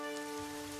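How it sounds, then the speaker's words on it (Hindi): Cartoon rain effect for a village story during a long August downpour: a brief, even hiss of falling rain under a steady, sustained tonal hum. "लेकिन बारिश 2 दिनों तक नहीं रुकती।"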